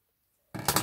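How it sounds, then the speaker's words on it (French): Scissors cut paper on the bias in a Christmas paper-craft project: a single short, crisp snip that breaks a near-silent pause. "Et je prends les ciseaux."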